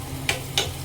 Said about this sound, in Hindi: बर्तन बहुत पतला है तो तेल बहुत जल्दी गर्म हो जाता है।